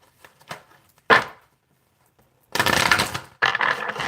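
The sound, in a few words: shuffling tarot cards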